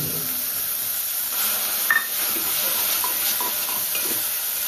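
Chana dal soaked for three hours fries in a hot tempering, a soft continuous sizzle and hiss with a brief clink of utensils partway through.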